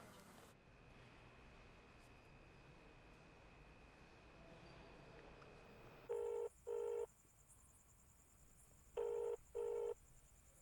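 A telephone rings unanswered indoors, two bursts of electronic ringing, then a pause, then two more, clear over a steady low background hum.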